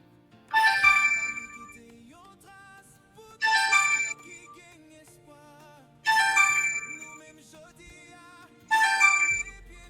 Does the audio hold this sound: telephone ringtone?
yes